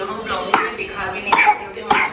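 A sick child in a hospital gives a few short coughs spaced about a second apart, close by, with light background noise and some faint voice in between.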